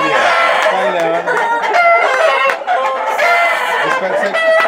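Roosters and chickens at a poultry breeding farm in Pesqueira fill the air with loud, overlapping crowing and busy clucking, close and continuous throughout, with people talking faintly beneath.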